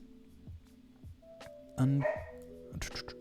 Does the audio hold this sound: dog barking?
yes